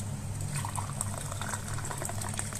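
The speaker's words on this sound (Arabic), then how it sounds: "نبتدي نحط الميه السخنه كل كوبايتين ميه لكل كوبايه رز" Hot water is poured into a pot of rice that was stirred in oil, for Egyptian-style rice with peas and carrots. It makes a steady, close watery rush with bubbling hiss that continues throughout.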